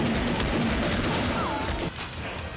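Rapid bursts of gunfire from the Bladeslinger video game: a loud, dense fusillade of overlapping shots with a constant roar and no break throughout.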